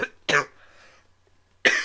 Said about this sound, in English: the cough is terrible